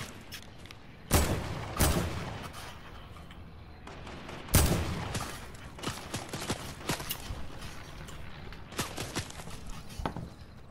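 Video game gunfire from shooting at bots, heard as irregular bursts of sharp shots with two loud volleys early on and scattered rapid shots continuing throughout, with no talk.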